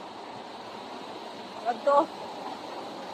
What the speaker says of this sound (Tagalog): Oh, sulog kaayo ang sapa oh.